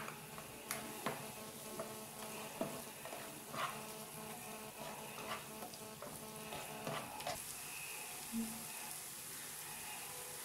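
Half an onion fries in a pan for chilli chicken while being stirred, a soft, continuous sizzle broken by sharp spoon taps and clicks against the pan at irregular intervals.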